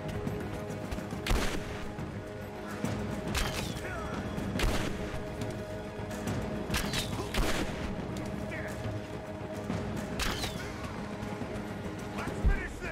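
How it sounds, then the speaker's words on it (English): Enemy gunfire in Rise of the Tomb Raider, scattered sharp shots and bursts crackling over a dense game soundscape of music and effects, with a voice talking throughout. "Who's shooting at me?"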